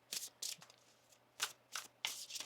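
A deck of tarot cards is shuffled close by in quiet surroundings, with five or six crisp riffling bursts at irregular intervals and no talking.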